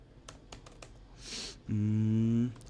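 Keys on a computer keyboard are typed while writing Python code: a few soft, scattered taps early on, followed by a steady buzzing tone.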